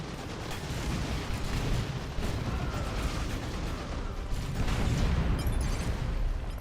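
Grenade launched and detonating amid Dawn of War 2 battle, a dense continuous barrage of booms and gunfire with a heavier explosion swelling near the five-second mark.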